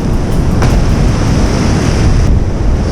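Surf breaks along the shore where striped bass are fished, a loud, continuous roar of churning white water mixed with heavy wind buffeting the microphone.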